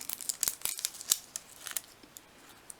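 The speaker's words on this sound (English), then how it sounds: "I just get my little scissors and I cut around the fish" Small scissors snip around fish transfers on a covered sheet for an acrylic paint-pour jar project, giving a close, quick series of crisp, light cuts and clicks with no talking.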